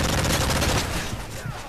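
Dense gunfire in Call of Duty: Modern Warfare 3 during a free-for-all match, a loud continuous wash of overlapping shots and noise that thins slightly toward the end.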